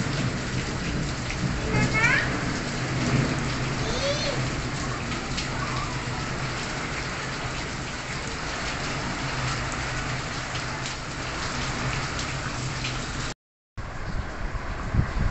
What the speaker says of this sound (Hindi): बारिश अच्छी अच्छी हो रही है